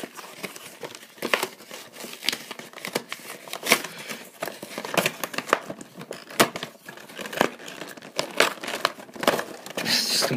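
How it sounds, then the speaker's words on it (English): Cardboard packaging of a Mew Mythical Pokémon collection box being torn and crumpled open by hand, a steady run of close, loud crinkling and ripping bursts with no talking. "Just completely ripping open this box completely."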